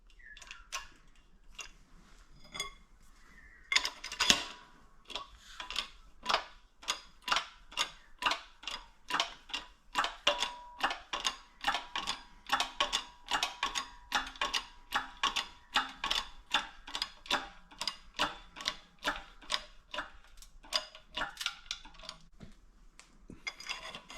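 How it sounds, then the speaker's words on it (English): Steady series of sharp metallic clicks and ticks, roughly two per second, as a flywheel is pressed onto a kingpin in a workshop; close, fairly quiet, with no talk. "we're now pressing the flywheel onto the kingpin"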